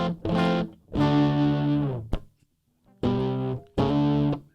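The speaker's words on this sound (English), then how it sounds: "I think that we've got quite a bassy sound coming from that amp there, but it sounds like a driven normal channel." An electric guitar plays through the driven normal channel of a Vox amp with a bassy tone, in two bursts of sustained distorted chords and notes separated by a short gap, loud and alone.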